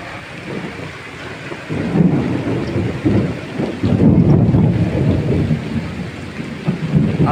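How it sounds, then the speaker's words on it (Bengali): A thunderstorm with heavy rain falls outdoors, the dense roar of the downpour broken by loud, deep thunder rumbles that swell and fade several times, close and powerful. "প্রচুর পরিমাণে বৃষ্টি হচ্ছে আর কি, তার মাঝখানে মেঘের ডাক দিচ্ছে, প্রচুর পরিমাণে ডাক।"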